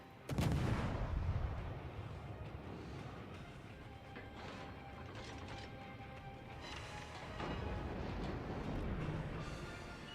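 Battleship guns fire in the naval combat video game World of Warships: a loud, booming salvo opens the sequence and fades into a long rumbling tail. A second swell of low rumble follows later, with no speech.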